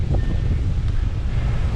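Wind rushes through a stand of woods near a large dead tree, a loud, steady low roar buffeting the microphone for the whole moment with no other clear sounds.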